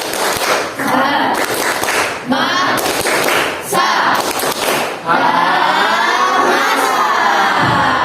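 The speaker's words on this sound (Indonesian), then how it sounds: "kita tepuk semangat bersama-sama. Tepuk semangat." A school class performs the rhythmic 'tepuk semangat' clapping chant together, bursts of patterned claps alternating with children chanting and shouting in unison, loud and close, ending in a sustained group shout.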